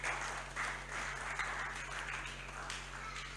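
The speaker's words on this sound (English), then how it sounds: "Tabernacle of Power, clap for yourself." An audience claps together during a church service, the applause dense and steady for a few seconds under a low electrical hum, with no voice above it.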